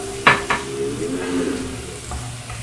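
Peppers added to eggplant sautéing in a pan, with a sharp clank of a utensil against the pan and a soft sizzle and stir continuing beneath; no voices.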